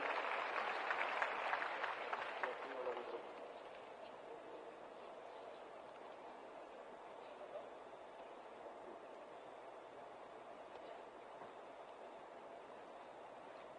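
An audience applauds recruits at a Bihar Police ceremony. The dense clapping lasts about three seconds, then dies away into a faint, hollow room hum.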